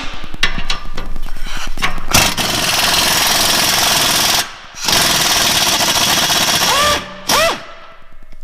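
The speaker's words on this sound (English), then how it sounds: "we are now taking off these bolts that hold the muffler up" Continuous loud rattling impact wrench hammers away at bolts holding up the muffler on a Toyota Tacoma during an aftermarket MBRP exhaust install, with two short pauses and a brief squealing whine near the end.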